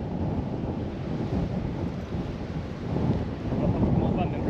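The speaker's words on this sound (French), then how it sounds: "il fait froid, il y a beaucoup de vent" Strong wind buffets the microphone outdoors beside muddy brown water on a cold day, a steady rumbling roar that swells louder toward the end, with no voices.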